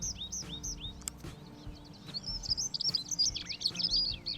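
Bright, varied warbler songs, including a Garden Warbler and a Wood Warbler, with quick chirps and trills, fairly close, rising in activity over a few seconds in an otherwise quiet mountain plateau setting near Trabzon.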